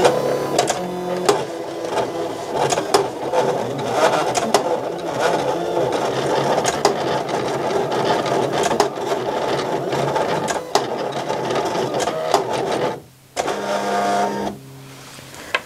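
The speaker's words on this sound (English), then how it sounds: "we're going to be using the Silhouette CAMEO to cut our CAD-CUT Glitter Flake." Silhouette CAMEO vinyl cutter slicing glitter heat transfer vinyl, a close, whirring motorized buzz with shifting pitch and stuttering bursts as the blade carriage moves, briefly pausing near the end.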